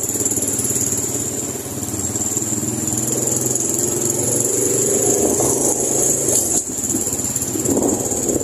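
A motorcycle engine runs steadily nearby, a continuous mid-pitched drone with a constant high whine above it and a slight swell partway through, with no speech over it.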